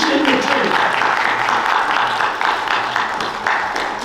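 A crowd at an oratorical contest keeps up a broad round of clapping, steady and fairly loud, with a voice faintly audible beneath the applause as it begins to taper.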